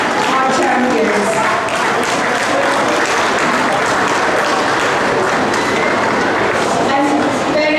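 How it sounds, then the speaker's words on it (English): Audience applause filling a school hall at a camp event honouring girl champions and their parents, a dense, steady wash of clapping sustained loud throughout. "give yourselves a round of applause"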